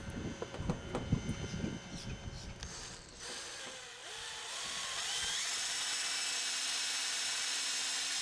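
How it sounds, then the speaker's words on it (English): Clicking and ratcheting mechanical noises, then a power drill spins up into a steady high-pitched whir as it bores through material, close and loud. "I'm going to drill the first hole."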